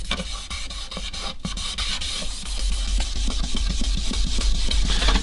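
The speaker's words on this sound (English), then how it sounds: "You just gotta keep rubbing it on." A cloth rubs wood stain into the wooden surface of a guitar wall hanger with a close, steady scrubbing, marked by repeated short rasping strokes over a constant low hum.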